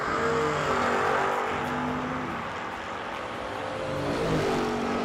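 Drag racing cars at the New Year Nationals, a Gremlin and a Big Tire Nova, give a loud, sustained engine roar with a full, rumbling low end that swells slightly and holds steady throughout. No talk is heard.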